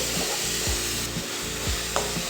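Onions, green chillies and curry leaves are sautéed in a pan for a mushroom gravy, heard as a close, rhythmic scraping of a utensil across the pan, about two strokes a second over a steady sizzling hiss.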